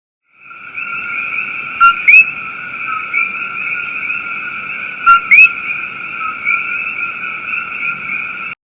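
A coqui frog from Puerto Rico calls loudly and alone with sharp two-note chirps repeated twice, set over a steady high whistling chorus of many frogs.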